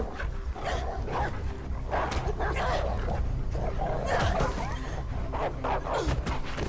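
Dogs barking and snarling as they attack in the video game Beyond: Two Souls, repeated sharp barks and growls over a low rumbling game backdrop, with whimpers mixed in and no clear speech.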